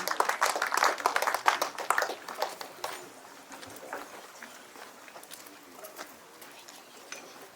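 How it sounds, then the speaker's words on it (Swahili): A church congregation claps hands together, a dense, lively burst of applause for a few seconds that then thins out and fades. "Sisi tuwapigie makofi katika jina la Yesu."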